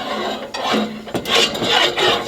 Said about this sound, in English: so I'm drilling these out to secure the axle in the brackets